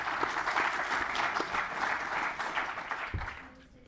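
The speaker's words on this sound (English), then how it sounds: "it's now time to give our panel a round of applause." Conference audience applauding a panel, a dense, lively burst of clapping from a sizable crowd indoors, loud and sustained before tapering off at the end as a voice begins to speak.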